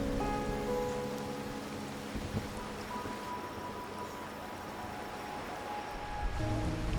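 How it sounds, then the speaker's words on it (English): Rain falls in the Wuthering Waves video game, a soft, steady hiss of drops on surfaces under faint tonal background music, quiet and continuous throughout. "As the rain finally ceases"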